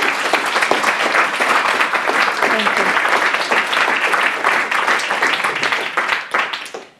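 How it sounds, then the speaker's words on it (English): Audience applause at a talk about a graphic novel, a loud, dense burst of clapping that sustains for several seconds before tapering off, with a single voice speaking briefly near the end. "That clap means a lot to me"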